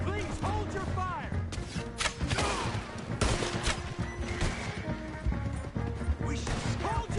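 Video game gunfire crackles in repeated crashing bursts and volleys across a chaotic battle, mixed with shouting voices and other clattering impacts throughout.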